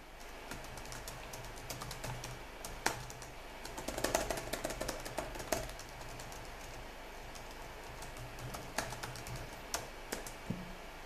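Someone types on a computer keyboard in a quiet room, close and irregular keystrokes with occasional heavier key presses, continuing throughout without talking.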